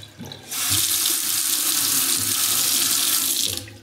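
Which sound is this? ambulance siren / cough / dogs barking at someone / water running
water running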